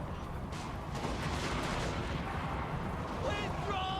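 Artillery fire in a Warhammer multiplayer battle, with dense rumbling booms and crackling shots rolling continuously in the mid-distance under a busy battle din.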